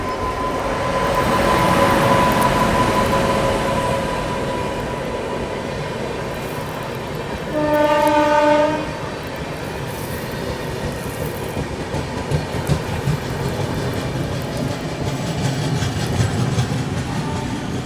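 The Gorakhpur–Mumbai LTT Express, an Indian passenger train, rumbles steadily along the rails, heard from on board. The roar swells briefly near the middle as a horn or tonal whine sounds, then settles back into a continuous clatter.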